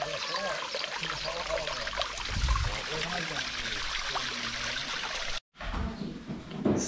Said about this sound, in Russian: И водопад.